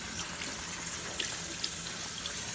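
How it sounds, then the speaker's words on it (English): Tap water runs in a steady, fairly loud stream as dyed fabric is rinsed under it in a sink, a continuous gushing wash with no talk. "I'm just rinsing the fabric right now, just until the color starts coming out"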